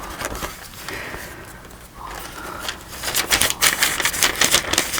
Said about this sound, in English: Listen to that page.